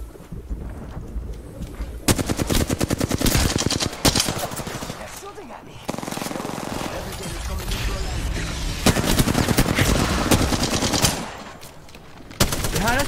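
Gunfire in the video game Apex Legends: long bursts of rapid automatic fire, loud and close, broken by short pauses, with players talking over it.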